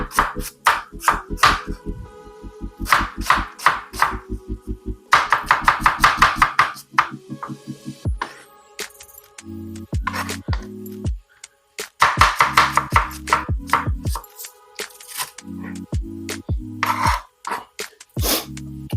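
Three-quarters of an onion chopped with a knife on a board, with bursts of quick sharp chops alternating with pauses, close and loud, over a steady tonal background with no talking.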